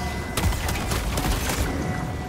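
Grenades explode in a video game battle, a series of heavy booms and blasts over a constant loud roar of combat noise.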